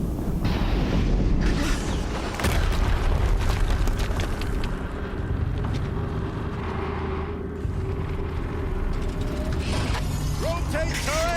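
Heavy mechanical grinding and booming from a turret rotating in Horizon Zero Dawn, a loud continuous churn with ratcheting clanks and deep thuds, ending in a few short rising whines.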